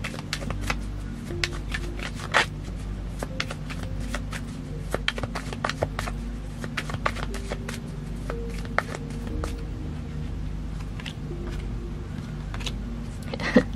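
Tarot cards being shuffled during a Cancer love reading, a steady run of soft riffling and papery slaps close by, with occasional sharper card snaps over a constant low background hum and no talking.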